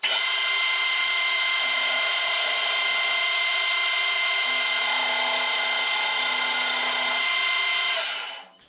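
Power tool cutting into a brake part, a loud, steady high-pitched whine and grind that holds for several seconds, then winds down and stops near the end.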